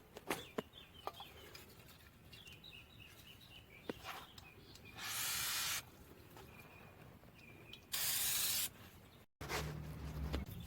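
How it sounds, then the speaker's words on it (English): Brake cleaner sprayed onto a 2004 Tacoma rear drum brake in two loud, hissing bursts of a few seconds each, between quieter clinks and handling noises. "Let's go ahead and just put a little bit of brake cleaner here"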